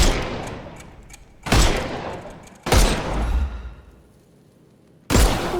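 Gunfire in the Sherlock Holmes Chapter One video game: three loud, sharp shots spaced a second or more apart, each trailing off into a long rumbling decay, with no talking.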